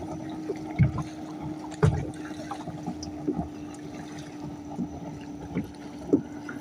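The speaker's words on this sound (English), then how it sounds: "I got a little John boat rolling." A small jon boat motors past on a busy lake, its outboard giving a steady low hum at moderate distance, with periodic water slaps and light wind noise over the engine drone.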